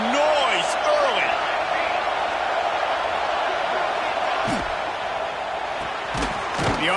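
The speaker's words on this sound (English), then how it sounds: "This crowd bringing the energy and noise early." Stadium crowd roar from a college football video game, Nebraska versus Utah State, a dense continuous din with scattered whoops and thuds beneath it.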